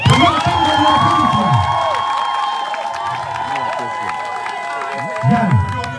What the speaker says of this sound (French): je veux encore que le peuple d'Israël applaudisse pour vous